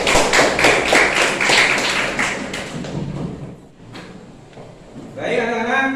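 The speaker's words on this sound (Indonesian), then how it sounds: "Kasih aplaus dulu untuk Rita Amelia." A classroom of students claps together for a classmate, a loud, fast run of close applause that fades out after about four seconds, then a voice begins speaking.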